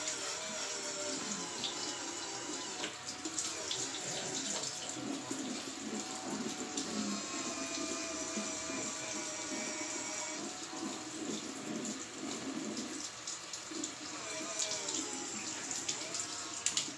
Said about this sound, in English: But I also have the water on